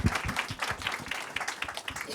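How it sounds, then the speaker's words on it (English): Applause from an audience at the close of a talk on water as an investment, a dense steady patter of many hands clapping for about two seconds, close and moderately loud with no one speaking over it. "So final applause for"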